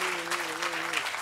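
Audience applause for a veteran Hindi lyricist at a poetry and song gathering, dense broadband clapping throughout with a sustained sung or spoken tone underneath.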